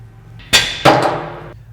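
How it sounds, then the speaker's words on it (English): A hammer strikes a Jeep Wrangler steering spindle during front brake work, giving two sharp metallic blows about a third of a second apart, close and loud, with a short ringing tail. "If you give the spindle a little shock with a hammer,"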